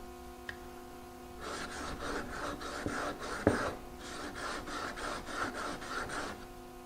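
Steady back-and-forth rasping of a plane blade rubbed on a sharpening stone, roughly a dozen rhythmic strokes in two runs separated by a short pause, close and fairly quiet over a faint hum.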